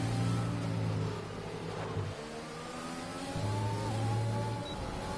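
Race cars including a Ferrari in a racing game, engines droning and revving close by with a steady tonal whine that dips briefly as the throttle lifts, then picks back up, loud and without speech.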